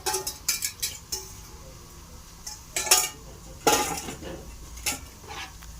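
Ten beaten eggs being stirred hard in a bowl for an Egyptian baked omelette tray, a run of quick clinking utensil strikes against the bowl in uneven bursts, close and clear without talk.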